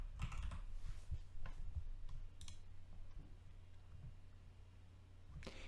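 Quick keystrokes on a computer keyboard, typed into a trademark search form, come in short clustered bursts of crisp clicks, close and fairly quiet, with a louder flurry at the end.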